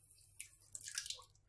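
Water poured into a bowl of bread dough mix with yogurt, a short close splash and trickle lasting about a second, with no talking.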